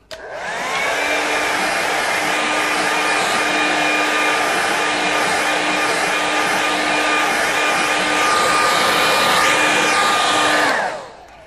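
A hair dryer blows steadily over a watercolour painting of a mountain range, a loud constant whirring hum that starts abruptly, holds for about ten seconds, then cuts off.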